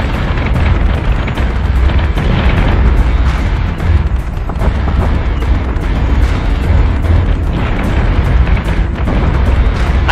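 Starship cannon fire and explosions in the Battlestar Galactica Deadlock space combat game, a loud dense barrage of booming blasts and rapid impacts rolling continuously without pause.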